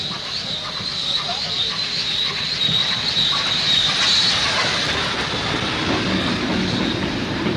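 A train rumbles steadily along the rails with a continuous metallic squeal and rolling clatter, close and loud throughout.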